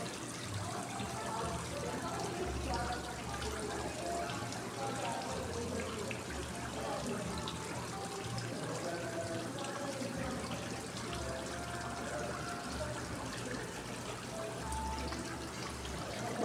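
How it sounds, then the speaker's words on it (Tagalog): Water in a home fountain flows in a soft, continuous trickle and splash, a gentle steady wash that holds throughout without pause. "Dumadaloy yung tubig."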